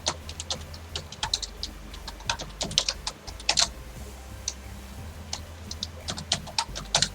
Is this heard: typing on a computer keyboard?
yes